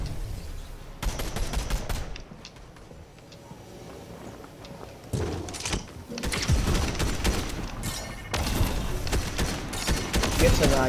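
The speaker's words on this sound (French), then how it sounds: "ça tire de partout là" Gunfire erupting from all directions in Fortnite, dense bursts of rapid shots and automatic fire coming in waves, loud and near, with players talking over it.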